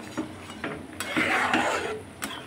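Fish pieces going into a pan with onion-garlic paste and garam masala, giving a soft sizzle with scraping stirs and a few clinks of utensil on the pan, close and steady with no talking.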